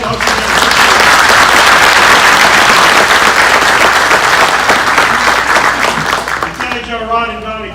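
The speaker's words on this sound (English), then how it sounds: "Please give a round of applause for these table hosts." Applause from a dinner crowd honoring table hosts at a Scouts award dinner, loud and sustained for most of the clip before fading as a voice begins speaking near the end.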